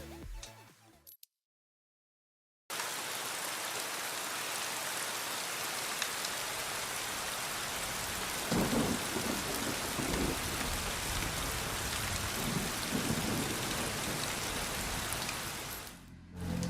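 Heavy rain falls on the Imola circuit in the RIDE 3 racing game, during a wet race on a Kawasaki Ninja ZX6R. A steady, dense hiss carries through most of the stretch, broken near the start by a brief silent gap.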